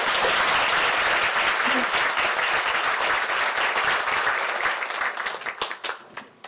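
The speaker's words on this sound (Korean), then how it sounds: "큰 박수로 맞이해 주시기 바랍니다." A crowd applauds loudly at a nursing students' Nightingale pledge ceremony, sustained dense clapping that thins out near the end into a few scattered final claps.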